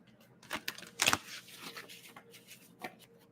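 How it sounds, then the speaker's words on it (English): Tarot cards being shuffled by hand in a few quick riffling bursts, crisp papery flicks and taps close up, the busiest flurry near the middle, with quiet gaps between and no talking. "I'm going to keep shuffling these cards"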